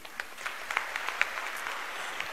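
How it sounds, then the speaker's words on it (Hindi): Students applaud in a room, a thin, steady patter of claps at moderate distance with a few sharper individual claps standing out. "स्टूडेंट्स को तो तालियां बजानी चाहिए क्योंकि जब हम विद्या के बारे में बात करते हैं"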